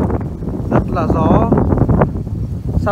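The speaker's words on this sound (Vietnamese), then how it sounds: "sắp sửa bão nên là gió rất là to." Strong wind before a storm sweeps a high mountain border area at Dong Van and Binh Lieu in Vietnam, roaring steadily against the microphone for several seconds, with a person talking over it.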